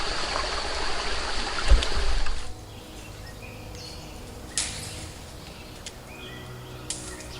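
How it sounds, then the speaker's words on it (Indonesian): Water flows steadily at a mountain spring, the last water source along a trail, a continuous close rushing trickle with a few faint splashes and knocks, likely from filling containers. "Saya lagi ngisi air karena di sini sumber air yang terakhir."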